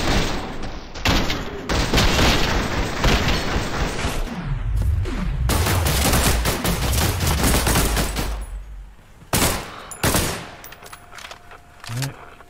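Automatic weapon fire in the shooter game Entropic Delay: loud bursts of rapid shots with heavy booming reports and a low rumbling tail, broken by short pauses and a few isolated single shots near the end.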